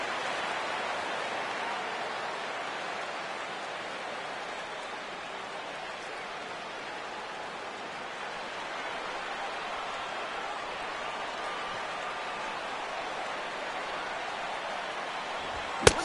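Light rain falls steadily on a baseball video game broadcast, a soft, even hiss holding at a constant faint level throughout with no voices over it.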